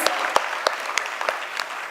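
Applause from an audience at a school stage production of 12 Angry Jurors, a dense wash of many hands with a few sharper near claps standing out, steady and fairly loud across the whole stretch.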